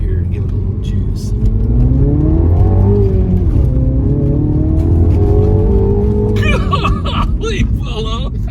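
A 2016 Mini Cooper John Cooper Works with a six-speed manual accelerates hard from inside the cabin, engine note climbing steadily then shifting and rising again, loud and close, with a voice exclaiming over it.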